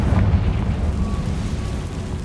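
A Confringo fire spell explodes in Hogwarts Legacy, producing a loud, deep rumbling boom that sustains as a heavy roar throughout with little decay.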